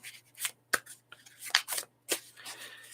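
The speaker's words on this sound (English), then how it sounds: "So let's give it a little bit of side shuffle action." Tarot cards side-shuffled by hand in a quiet room, a few crisp riffling bursts with short pauses between them, close and fairly soft with no talk.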